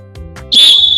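A sharp referee-style whistle is blown to start a children's race game, a loud sustained shrill blast arriving after brief faint voices of the countdown.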